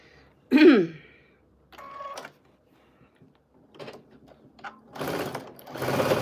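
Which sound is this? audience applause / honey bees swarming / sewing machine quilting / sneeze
sewing machine quilting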